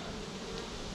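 A small honeybee swarm hanging in place, up close, giving a dense, steady buzzing drone that holds evenly through the whole moment with no talking.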